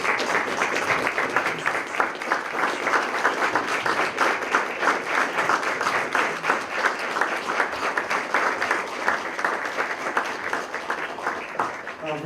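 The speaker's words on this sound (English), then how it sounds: "Please join me in giving a warm applause to Dr. Otaigbe." Steady, moderately loud applause from an audience at a school board retirement ceremony, welcoming Dr. Michael Otaigbe to the stage; even, continuous clapping from many hands throughout, with no voices standing out.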